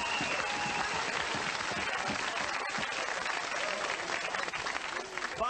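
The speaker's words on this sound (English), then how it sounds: "a round of applause for Mr. Bob Lanier and Rick Ferry" Sustained applause from a large studio audience at a 1992 Double Dare NBA All-Star special game show, dense steady clapping filling the whole stretch with crowd noise mixed in.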